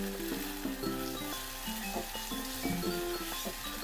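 Kasuri methi hits hot spiced oil and masala in a pan for bhindi masala, giving a close, steady sizzle and crackle with light stirring scrapes and a faint clink of a utensil.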